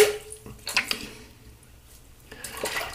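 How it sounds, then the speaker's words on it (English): Water splashes and drips in short bursts as a face and razor are rinsed after a wet shave, close by and moderately quiet, with gaps of near silence between the splashes. "That's enough rinsing for one day."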